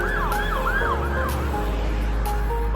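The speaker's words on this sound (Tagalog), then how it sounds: "May hinahabol ang pulis." A police car siren wails past on a city street during a bike ride. Its rising and falling sweeps are loud and continuous over steady traffic rumble, with no talking.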